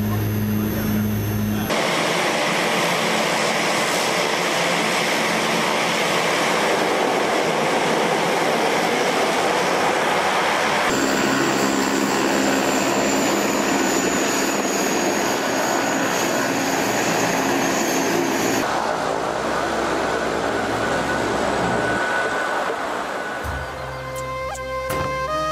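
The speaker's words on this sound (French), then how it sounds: "Juste avant l'arrivée sur Lukla, nous plongeons sur la piste, aménagée sur un plateau en pente." A small plane landing on the steep, sloped Lukla airstrip in Nepal, its engine a loud continuous roar heard from inside the cabin that shifts in pitch as it touches down and rolls out.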